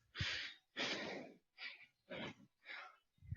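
Heavy, labored breaths in a steady series, five long exhalations with short gaps, close and fairly loud, no talking.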